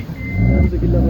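A vehicle engine labours and drones low and loud as it fails to climb a snowy road, rising in strain midway, with people talking over it.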